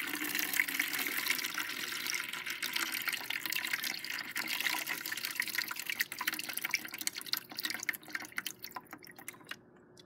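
Homemade compost tea is poured from a jar over plant cuttings, making a steady splashing, trickling stream of liquid that thins into scattered drips near the end, close and moderately quiet.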